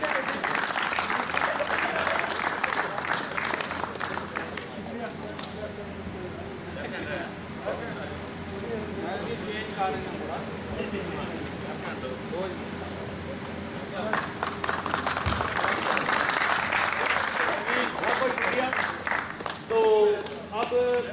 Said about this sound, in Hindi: इनके लिए बहुत सी तालियां हैं।